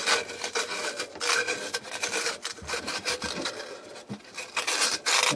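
Copper pipe being polished by hand to clear burrs and surface corrosion before fitting a Sharkbite connector, a close, irregular rasping rub in quick back-and-forth strokes with brief pauses, no talk.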